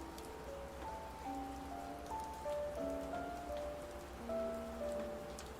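Rain plays on a livestream as a faint, steady patter of drops, with soft sustained musical tones drifting over it.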